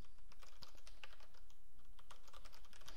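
Fingers tap quickly across a computer keyboard, entering an email address into a web form. The keystrokes come in a brisk, irregular patter, close up but fairly quiet, with no voice.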